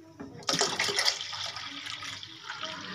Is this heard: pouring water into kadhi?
yes